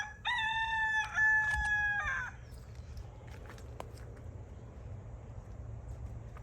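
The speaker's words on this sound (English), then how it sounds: "My roosters are going crazy" Roosters crowing in a garden, one loud, close crow followed by a faint distant answer over a low background hum.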